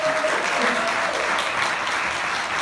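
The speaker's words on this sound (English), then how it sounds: "Can we just give them another round of applause?" An audience applauds at a documentary discussion event, a dense, steady clapping from a crowd that holds at an even level for the whole stretch.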